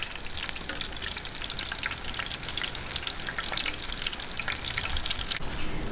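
Baby shrimp okoy fritters deep fry in hot oil, a dense, bright crackling sizzle like heavy rain that holds loud and steady from start to finish, close up with no talking.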